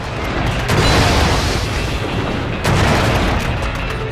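Heavy, booming shotgun fire in the video game Quantum of Solace on a train level, from close range, with two loud blasts rolling into dense, sustained rumble and noise.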